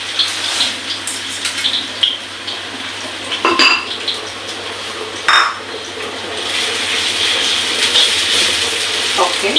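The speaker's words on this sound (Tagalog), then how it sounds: "So, ilagay na natin yung munggo." Mung beans are tipped into a pot of boiling water, giving brief clinks and rattles of metal cookware over a steady bubbling and hiss, with a couple of sharper knocks midway.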